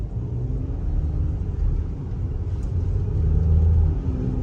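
A Mercedes-AMG GLE 43 SUV engine's low rumble builds as it accelerates in second gear, its drone rising and swelling toward the end, with no voices.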